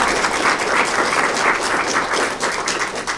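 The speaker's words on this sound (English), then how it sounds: "please give a round" An audience gives the panelists a round of applause after an economic impact survey presentation, full and continuous clapping that fills the whole stretch at steady loudness.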